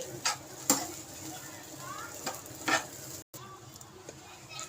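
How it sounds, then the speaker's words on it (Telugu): Bread powder fries in a pan and is stirred, giving a soft, faint sizzle broken by light scraping strokes, while someone talks over it. "ఈ బ్రెడ్ పౌడర్ వేసి వేపాలి ఇలా మంచిగా గోల్డెన్ బ్రౌన్ కలర్ వచ్చేదాకా వేపుకోవాలి"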